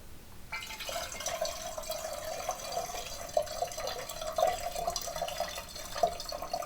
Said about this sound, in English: I add about 8 ounces of water to it.